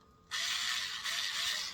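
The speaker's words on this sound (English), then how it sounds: "I've heard this power drill being used a lot." Power drill running in short bursts, a bright whirring motor that spins up with a rising whine, briefly eases off and then runs again, close by and fairly quiet, with no voices.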